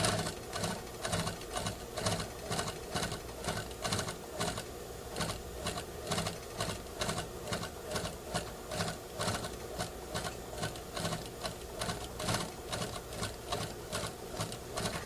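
Sewing machine stitching a curved pocket seam runs fast and steady, a continuous rhythmic chatter of needle strokes at moderate volume that keeps going with no talking.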